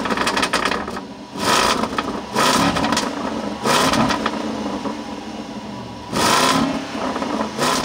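A 2023 Land Rover Defender's supercharged 5-liter V8 roars in repeated revving bursts, rising and falling with a loud, throaty exhaust note and a high supercharger whine.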